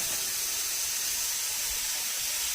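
Onions drop into a hot cast iron pan with olive oil and mushrooms over medium heat, setting off a steady, close, bright hiss of sizzling that fills the whole moment without talk.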